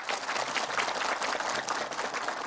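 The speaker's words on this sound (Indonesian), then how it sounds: "Boleh tepuk tangan buat kita?" Studio audience applauding at an Indonesian religious talk show, a dense, steady wash of many hands clapping throughout, loud and close with no break.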